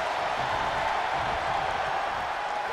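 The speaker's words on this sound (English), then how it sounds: "The sound of this crowd is deafening, and he's asking for more." Dense, steady roar of a wrestling arena crowd in WWE 2K23, a broad wash of cheering noise held evenly throughout without breaks, loud and close.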